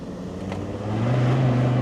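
Land Rover Discovery Td5 diesel fitted with a CR VNT turbo, pulling hard in second gear, its low engine drone rising steadily in pitch and growing louder over a couple of seconds with no talking.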